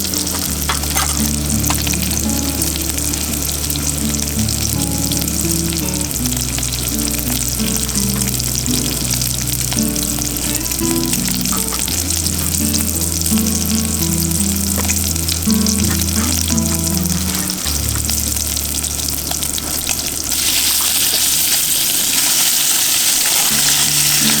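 Meat sizzles steadily in its own rendered fat in a pan over a winter campsite fire on Lake Nipissing, a dense, continuous frying hiss that stays loud and close for the whole stretch.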